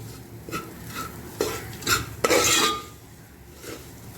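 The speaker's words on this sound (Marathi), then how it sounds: "हळद छान मिक्स करून घ्यायची मसाल्यांसोबत" A spoon stirs turmeric into spices in a pan, several close scraping and rubbing strokes against the metal, a few brighter clinks, then fading to quiet.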